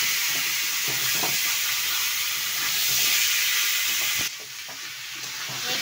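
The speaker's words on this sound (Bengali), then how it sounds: "এবার আমি মেখে রাখা মাংসটা দিয়ে দিলাম।" Marinated meat dropped into hot oil with curry leaves and whole garam masala, giving a loud, steady close sizzle with a few stirring scrapes, which eases and drops lower toward the end.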